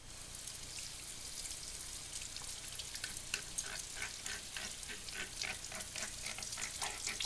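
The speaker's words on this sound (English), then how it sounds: "make sure to still scrub while the water is running through." Water runs and splashes steadily over a plastic paint palette as it is scrubbed clean, with a constant hiss and rapid crackly, sizzling bursts that grow busier partway through; close and fairly quiet, with no talking.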